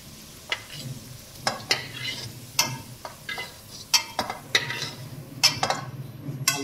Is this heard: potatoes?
yes